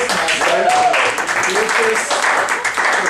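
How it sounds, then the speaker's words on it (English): A rousing round of applause for the Toastmaster at a club meeting, loud, dense clapping sustained for about three seconds with voices cheering over it. "please give a rousing round of applause to our Toastmaster"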